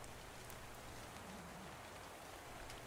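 Steady rain in a video game hisses evenly throughout as a soft wash of noise, with faint patters of drops and no voices.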